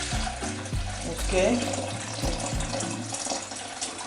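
Soaking water is poured off soaked beans for a traditional bean soup, a splashing, gurgling flow with clunks of the pot, while someone speaks briefly.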